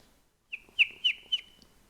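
A person imitates a bird call with four short, bright whistled chirps in quick succession, close and clear against a quiet background.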